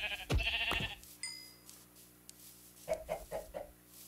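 A sheep in Minecraft bleats in a short run of four quick, moderately loud calls near the end, following a couple of sharper game sound effects at the start, with no talking.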